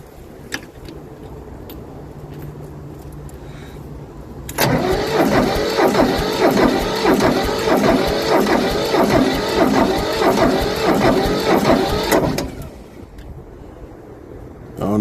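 Tractor starter motor cranking the engine, a loud rapid whirring churn that begins abruptly and runs steadily for about eight seconds before cutting off, close to the source with a low hum before and after.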